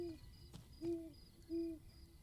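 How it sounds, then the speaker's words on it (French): An owl in the video game Lost Records: Bloom & Rage gives three clear, evenly spaced hoots, each a short low tone, over quiet ambient game sound. "Il y a un hibou."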